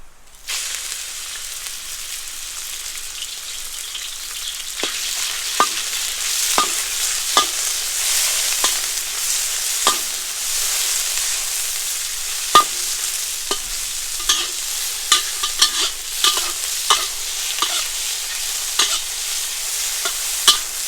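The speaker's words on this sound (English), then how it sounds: "Let's throw in your Wagyu beef." Wagyu beef stir-fried for char kuey teow, hissing in a hot pan with steady frying sizzle and repeated sharp clinks of a spatula scraping and tossing, no talking.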